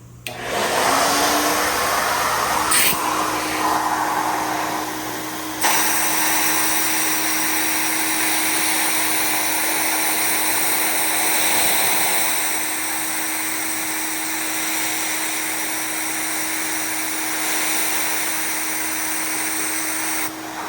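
A Vevor 28-gallon vacuum sand blaster runs loud and close as a steady, unbroken rush of blasting air over a low hum, holding an even level for about twenty seconds with a brief shift early on.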